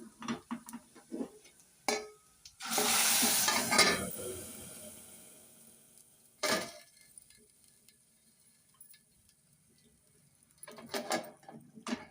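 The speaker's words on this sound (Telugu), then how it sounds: "ఇప్పుడు మనం పప్పు అయితే తాలింపులో వేసేసుకున్నామండి స్టవ్ కొంచెం తగ్గించి" Cooked lentils for a Telugu vakkaya (karonda) dal hit hot tempering in a pan with a loud burst of sizzle lasting a couple of seconds. Scattered clinks of a utensil against the pan come before and after it.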